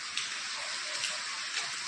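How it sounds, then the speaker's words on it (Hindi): Heavy rain pouring down at midday, a dense, steady hiss of falling water without pause, with a few slightly louder splashes rising out of the even roar. "बारिश बहुत तेज हो रही है देखो"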